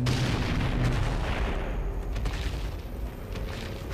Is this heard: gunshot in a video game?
yes